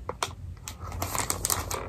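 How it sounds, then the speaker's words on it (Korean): Keys clatter on a pink Logitech K380 Bluetooth keyboard in a short, uneven burst of close, crisp taps. "블루투스 키보드 샀어요. 로지텍 K380."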